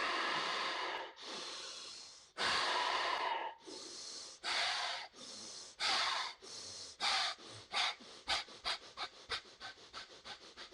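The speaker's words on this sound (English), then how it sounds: "Fourth round, let's go deep inhale." Breathing during a pranayama session, close and alone. Long, forceful breaths at first become quicker and shorter, building into a rapid rhythmic series.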